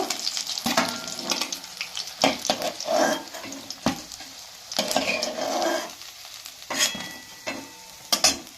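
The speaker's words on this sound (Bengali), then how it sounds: "একদম লাল লাল করে ভেজে নিচ্ছি" Taro pieces, prepared as a vegetarian fish dish, fry in hot oil with a steady sizzle, broken by repeated scrapes and clinks of a spatula stirring against the pan at close range, with no talking.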